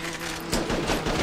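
Video game gunfire from Attack of the Movies 3D: a quick burst of rapid shots, loud and close, starting partway through after a brief tonal hum.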